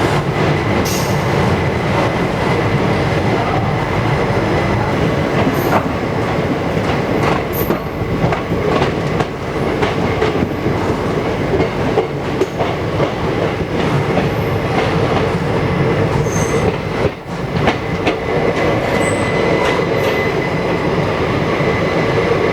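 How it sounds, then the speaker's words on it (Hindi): Indian passenger train pulling out of Gurgaon as heard inside a 3rd AC coach on the Delhi to Jodhpur route: a steady, loud rolling rumble with rhythmic wheel clatter and occasional faint squeals, continuous throughout and no voices. "जो ट्रेन है वो बस निकलने वाली है"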